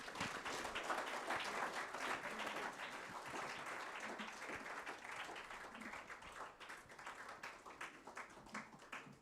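An audience applauds at an anniversary celebration for a firm, with dense, sustained clapping from a large crowd that is heard quietly and from a distance, tapering slightly toward the end.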